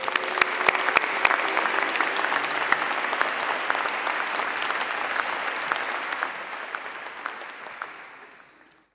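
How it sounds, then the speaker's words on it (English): A large audience at a university Faculty of Medicine graduation ceremony applauds steadily for several seconds, a dense even clatter of clapping that fades out toward the end. "Please join me in a round of applause to the graduates."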